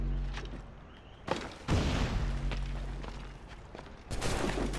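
Video game gunfire: sharp shots and bursts crack through a steady rumbling background, with a heavier blast near the middle.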